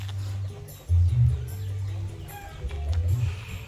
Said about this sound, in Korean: 저 닭들도 많고요